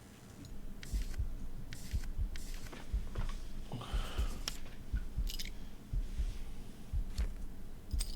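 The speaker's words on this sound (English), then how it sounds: "You can hear the heartbeat." Steady thumping heartbeat in a video game while cracking a safe, a regular low pulse repeating about once a second, close and moderately loud throughout.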